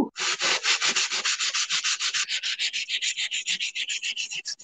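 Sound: sanding block sanding a Dollar Tree coaster

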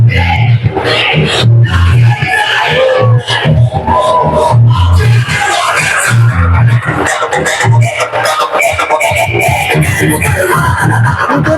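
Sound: party workers cheering an election victory in Karad

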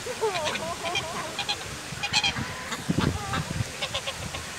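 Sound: geese honking

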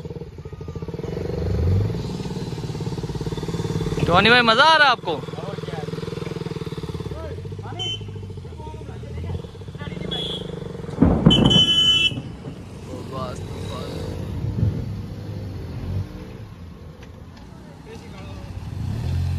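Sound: motorcycle engine riding

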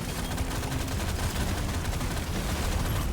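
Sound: explosions in the video game Deep Rock Galactic Survivor

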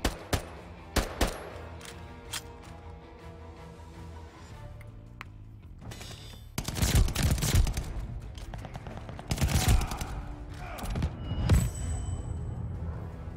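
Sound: gunfire from the video game Call of Duty: Vanguard

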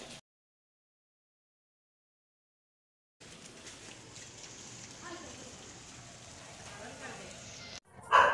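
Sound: rain

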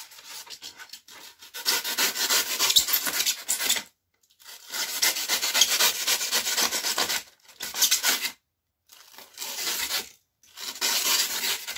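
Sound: fine grit sandpaper sanding the top of an expanding foam hill

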